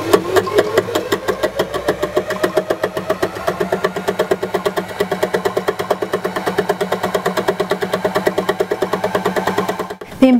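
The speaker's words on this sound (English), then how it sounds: "The embellishing machine should always be run at full speed or you risk breaking your needles." An embellishing machine for needle felting runs at full speed with a fast, even mechanical chatter of needles punching in a regular rhythm, loud and close, ending in a brief clunk.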